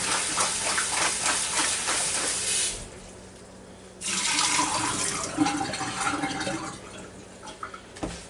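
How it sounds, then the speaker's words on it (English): Running tap water rinsing red potatoes in a sink, a steady splashing hiss that stops briefly, then resumes with rattling and dripping. "Just run some water over them again, sort of rinse them."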